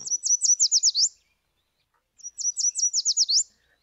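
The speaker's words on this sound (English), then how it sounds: "Let us use the yellow warbler as an example of vocal quality." Two bright, high yellow warbler songs, each a quick run of sweet repeated notes that speeds up toward the end, separated by a short pause and heard clearly without other sounds.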